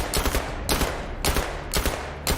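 Bursts of gunfire from a weapon in the VR shooter Zero Caliber, four loud rapid volleys at a steady rhythm, close and alone with no talk.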